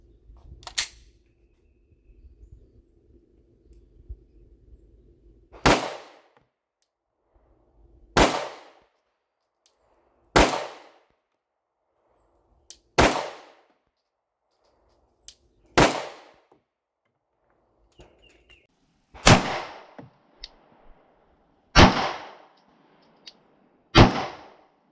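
Gunshots from a pistol with a stock trigger fired at a downrange bullseye target on an outdoor range, about ten sharp cracks spaced a few seconds apart, with low background noise.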